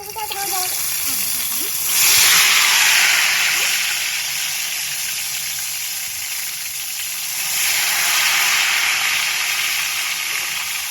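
Ghevar batter frying in hot oil, a loud steady sizzle and hiss with two bursts of stronger frothing as more batter goes in; a voice speaks briefly.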